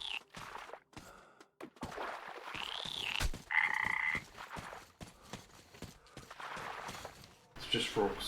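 Frogs croak in a swamp in Metro Exodus, repeated raspy croaks at an irregular rhythm, with other game effects and brief breathing sounds.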